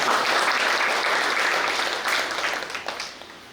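A crowd claps at a village festival, a dense burst of applause that starts loud and full and gradually thins and fades toward the end, heard alone without speech.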